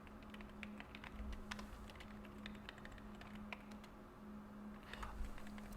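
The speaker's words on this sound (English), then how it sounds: "It's somebody typing." Rapid keyboard typing in The Evil Within video game, an irregular patter of faint clicking keystrokes over a low steady hum, continuing quietly throughout.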